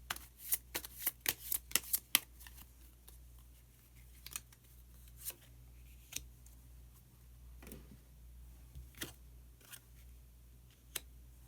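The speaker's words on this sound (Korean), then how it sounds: "카드 한 장을 더 뽑고 이야기 계속 나누도록 하겠습니다." Tarot cards shuffled close up in a quick burst of crisp riffles and flicks, then a few soft, sparse snaps and slides as single cards are drawn from the deck.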